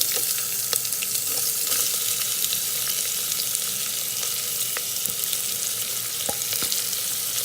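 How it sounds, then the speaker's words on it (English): Chopped onions with cardamom, cinnamon and curry leaves sauté in an Instant Pot for chicken curry, giving a steady close sizzle with occasional sharp clicks of stirring throughout. "Onion needs to be fried, sauteed well."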